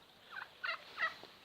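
Laying hens giving three short, quiet clucking calls in quick succession, soft and fairly close, with no talking.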